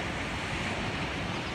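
Ocean waves wash ashore in front of seaside houses in Orange County, a continuous broad rush of surf with wind noise.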